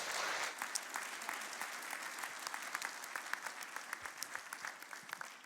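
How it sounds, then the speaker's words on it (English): A dinner audience claps steadily, a dense wash of applause that thins slightly toward the end with individual claps standing out. "Maybe let's just start with a very warm welcome, applause to Stephanie Kelton."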